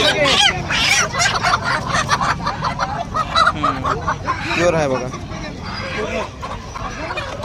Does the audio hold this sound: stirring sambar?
no